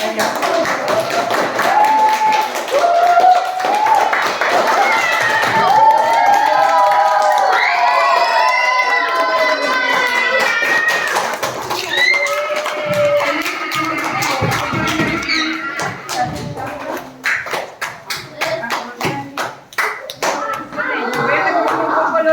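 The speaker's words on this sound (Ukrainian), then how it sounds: "Так, плескайте." Children in a classroom clap and cheer for summer birthday classmates, a dense burst of applause and shouting voices that stays loud throughout and thins slightly toward the end.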